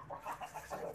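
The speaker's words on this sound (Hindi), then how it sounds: "इसमें मुर्गी है?" Hens clucking on a house roof, a quick series of five or six soft clucks in an even rhythm, fairly faint and close with no talk over them.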